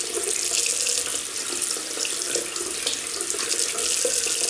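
A bathroom tap runs steadily as a shaving brush, used with Derby shaving soap, is rinsed clean under the stream, giving a constant close splashing wash of water with no talk.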